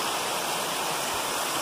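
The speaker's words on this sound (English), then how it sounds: "So I made it here to Mountaineer Falls. Nice little waterfall." Mountaineer Falls, a small waterfall along the Appalachian Trail, pours in a steady, dense broadband rush, close and continuous with no voices over it.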